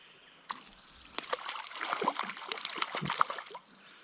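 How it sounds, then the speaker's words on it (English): A hooked brown trout splashes and thrashes in river water, with a quick onset, then a few seconds of irregular sloshing and spattering bursts, close and moderately loud, before it settles. "Man, he keeps splashing like that."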